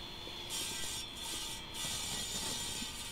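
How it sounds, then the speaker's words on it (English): A steady, loud mechanical whine and hiss of a water-cooled lapidary saw cutting stone, continuous throughout with slight surges, no voices. "There's the saw at work."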